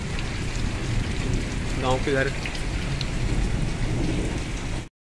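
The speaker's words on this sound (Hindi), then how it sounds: "तो गाइस देख रहे हैं अपने इधर तो बहुत खूब बारिश हो रही है और थंडरिंग भी हो रही है साथ साथ में।" Heavy rain pours steadily around a village house in a loud, dense hiss, with a brief voice speaking partway through; no distinct thunder clap stands out.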